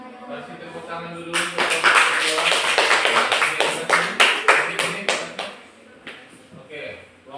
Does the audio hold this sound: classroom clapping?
yes